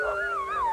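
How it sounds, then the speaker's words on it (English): A sled dog lets out a brief, close howl, one rising and wavering tonal cry eager before a ride, heard alone. "These dogs are raring to go"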